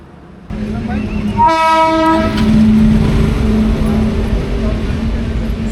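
Sairang Express train passing close by, its loud horn sounding a long blast over the heavy rumble and clatter of the cars.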